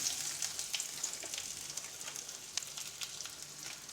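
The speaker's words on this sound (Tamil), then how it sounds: "தக்காளி, தேங்காய் எல்லாம் ஒன்றா சேர்த்து வதக்குங்க" Onion, dried red chillies, chana dal, tomato, tamarind and coconut sauté in oil in a pan for a pirandai chutney, giving a soft, steady sizzle with small crackling pops. It is faint and continuous, with no talk.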